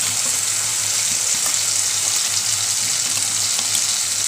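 Chopped tomato sizzles steadily in hot oil in a pan, a constant bright frying hiss with no voices over it.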